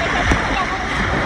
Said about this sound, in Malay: Hujan sangat.